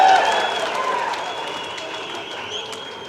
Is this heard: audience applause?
yes